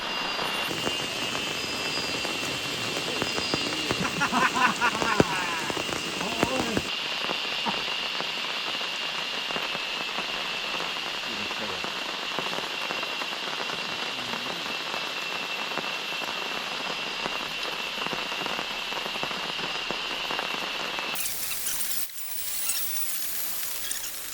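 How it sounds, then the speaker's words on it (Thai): Steady rain falls without pause over a jungle camp, a dense, even hiss lasting throughout with no voices and a brief shift in tone near the end. "ในระหว่างที่พวกเรานั่งพักกันเนี่ย ฝนก็ยังคงตกอย่างต่อเนื่องเลยนะครับ"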